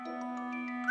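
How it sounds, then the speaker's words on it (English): A door swings open to a bright electronic chime, a sustained tonal ring holding steady and then rising sharply in a closing ding at the end, clear and alone. "the door opened with a lovely chime"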